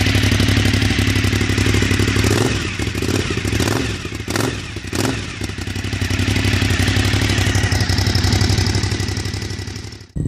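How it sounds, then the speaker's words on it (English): Cagiva Raptor 1000 motorcycle with a Penta aftermarket exhaust, loud and close, a brutal lumpy idle broken by several sharp throttle blips and crackles before settling back to a rumbling idle. "Penta exhausts, again a lesser known brand, but the sound is certainly quite brutal"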